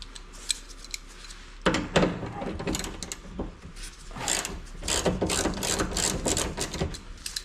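Ratchet working a nut loose on a Ford Fairlane seat mount, a run of quick metallic clicks and clattering bursts, close and moderately loud, with short pauses between strokes and no talking.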